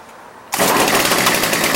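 Redmax BCZ2460S brushcutter engine firing up on the first pull after a half-second lull, then running at a loud, steady, buzzing two-stroke roar close by.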